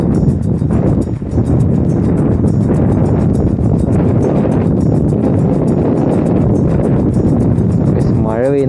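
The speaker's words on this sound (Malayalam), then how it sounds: "മഴ പെയ്യുന്നു ഗൈസ്, ഒടുക്കത്തെ കാറ്റും" Strong wind and rain in the evening in the hills near Kattappana, Idukki, make a loud, continuous roar and buffeting that fills the whole stretch close to the microphone.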